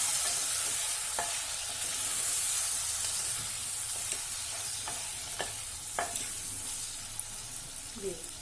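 Radish pieces for sambar sizzling and being stirred in a hot pan, a continuous frying hiss broken by several scraping strokes of a spoon, close by and without talk.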